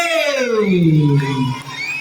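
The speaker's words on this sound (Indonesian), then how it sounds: "tepuk tangan" Schoolchildren at an end-of-semester report ceremony cheer for the winning classes of a futsal competition. It is a short, loud burst of shouting and whooping young voices that fades toward the end, with no distinct clapping.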